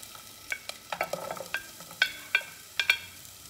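Garlic and a small onion sautéing in a pan, with a light sizzle under a series of quick, sharp spatula scrapes and taps spaced through the clip.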